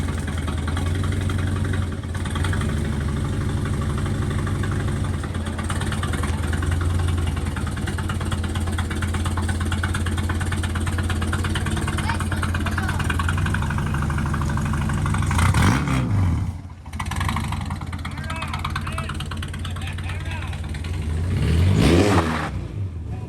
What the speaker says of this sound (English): Want to drive the streets in a NASCAR pickup?